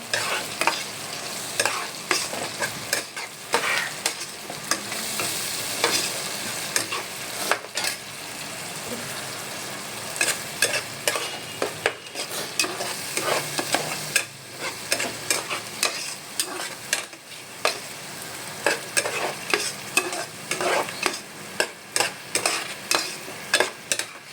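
Green chilli and onion paste with ginger and garlic stirred and frying in a pan for mutton curry, a steady sizzle broken by repeated scraping strokes of a spoon against the metal, loud and close with no talk.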